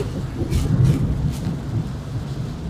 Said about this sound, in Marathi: मजबूत पाऊस पडतोय.